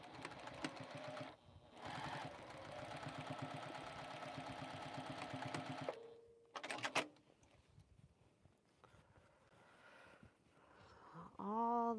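A Juki sewing machine stitches a bag lining in a fast, even whirring run that pauses briefly and then continues for several seconds. Quieter handling noises and clicks follow after the stitching stops.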